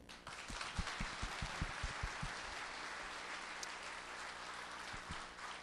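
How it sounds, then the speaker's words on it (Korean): Faint, distant applause from the crowd at a book concert holds steady for several seconds, with a few heavier thumps standing out in the first half. "큰 박수 한번 주십시오."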